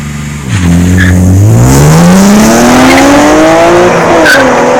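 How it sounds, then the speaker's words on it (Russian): Loud engines of a BMW M3 and a Nissan GT-R R35 scream as they accelerate hard from a start, the pitch climbing steadily through the gears, with a brief tire squeal near the beginning. "Все хотят услышать звук мотора."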